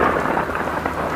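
Heavy downpour with rumbling thunder on a dark night, a loud, dense wash of rain with low rolling thunder underneath, no voices.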